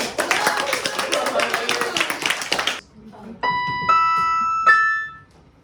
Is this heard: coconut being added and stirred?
no